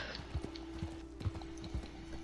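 Horse hooves clip-clopping in the Red Dead Redemption 2 video game, a quiet, steady run of about five soft thuds over a low continuous hum, with no one talking.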